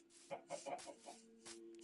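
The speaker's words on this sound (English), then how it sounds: "Oh, look at you, warm chicken." A video game chicken gives a quick run of soft clucks, several short bursts close together followed by a couple more, faint and alone.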